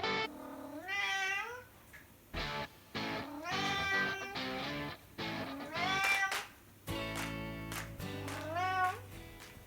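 A talkative house cat meows again and again, close and clear, with varied rising and falling calls coming in quick runs and short pauses.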